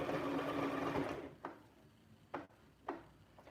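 Sewing machine stitching a roll of a wig, a steady whirring run of stitches that stops after about a second and is followed by three separate knocks as the work is handled, close and with no talk.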